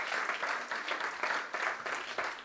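A church congregation breaks into warm, sustained applause during a worship service, many hands clapping in a dense, steady wash that pulses slightly in waves.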